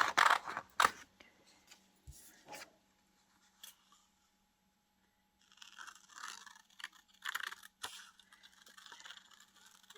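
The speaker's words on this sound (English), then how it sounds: "I'll stamp it, I'll cut it out and see what it looks like." Scissors cutting out a stamped paper image cut from a magazine, a few close snips and crisp paper scrapes, a quiet pause, then longer bursts of cutting and rustling paper.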